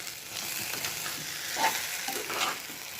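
Amaranth leaves and dried prawns simmer as a curry in a pan, with a steady close sizzle and bubbling, soft stirring scrapes rising now and then.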